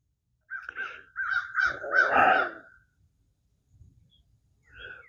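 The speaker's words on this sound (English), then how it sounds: "there's a crow up there in the pine trees yelling at me" A crow up in pine trees caws repeatedly, a series of harsh loud calls in quick succession followed by a pause and one more call, clear and fairly close, no talking.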